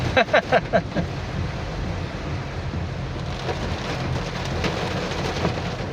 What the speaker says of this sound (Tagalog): Siguro bumalik yung bagyo.